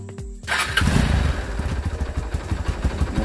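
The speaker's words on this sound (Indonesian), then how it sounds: "dan motor bisa kita coba" A carburetor motorcycle with a freshly fitted spark plug fires up after a brief starter whir, then settles into a close, loud, uneven idle with rhythmic thumping exhaust pulses.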